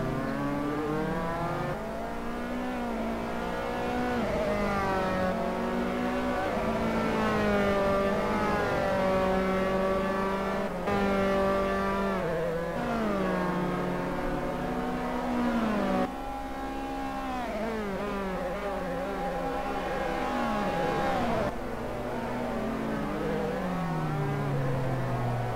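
Race car engines in Assetto Corsa, an F3 car at the Norisring, wail continuously at high revs, pitch rising and falling through gear shifts, loud and steady throughout with no talk.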